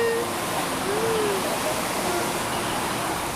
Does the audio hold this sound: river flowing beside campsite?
yes